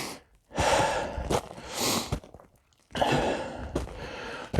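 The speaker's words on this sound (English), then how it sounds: "I'm gonna be breathing heavier because this lovely hill here that's just covered in ice." Heavy, labored breathing from someone walking up an icy hill: loud gasping breaths and exhales come in two long bursts with a short pause between them, close to the microphone.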